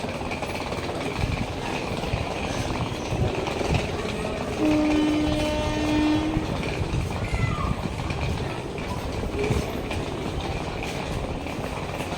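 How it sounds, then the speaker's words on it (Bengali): At a busy railway station platform, the Shahid Express rumbles steadily with clanking carriages and a brief sustained horn midway, while faint voices murmur in the background. "তো এই যে আমাদের ট্রেন শহীদ এক্সপ্রেস।"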